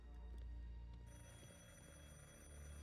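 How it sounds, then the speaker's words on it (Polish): A telephone rings in the Sniper Elite 5 video game, a short burst of bell-like ringing over a low ambient game soundtrack. "Telefon do mnie dzwoni."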